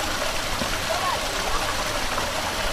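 Water running along an irrigation channel on farmland, a steady broadband rush heard close by with people talking faintly over it.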